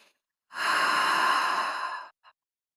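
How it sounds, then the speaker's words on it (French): A single deep, slow exhalation through the mouth lasts about a second and a half, close and breathy, followed by a brief faint puff, during a yin yoga heart-opening session. "Inspire par le nez, expire par la bouche."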